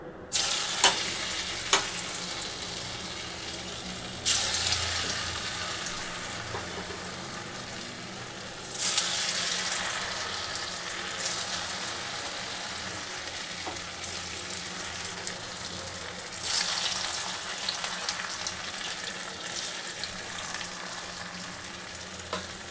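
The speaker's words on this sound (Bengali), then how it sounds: "এবার আমি এগুলো আস্তে আস্তে ভাজতে দিয়ে দিচ্ছি।" Pieces of dhoka, lentil cakes for Dhokar Dalna, fry in hot oil with a dense, steady crackling sizzle that flares up in sudden bursts as more pieces drop in. No one speaks.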